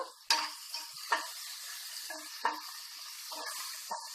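Onions with curry leaves and salt frying in a pan for mutton curry, a close steady sizzle broken by several short scraping stirs.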